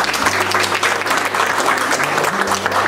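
Applause fills the room at an exhibition opening, a brief, steady burst of many hands clapping close by.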